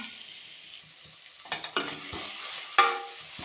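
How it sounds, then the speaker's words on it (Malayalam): Sprouted green gram stirred into grated coconut in a pan, giving soft, fairly quiet scraping and light sizzling with a few sharper spoon knocks near the middle and one louder clack toward the end. "നമുക്കിതിലേക്ക് മുളച്ച ചെറുപയർ ചേർത്ത് കൊടുക്കാം നന്നായി ഇളക്കി യോജിപ്പിക്കാം"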